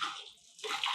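Shower water runs steadily with a broad hiss as the flow is switched from hot to cold; it dips quieter midway, then surges back louder and fuller.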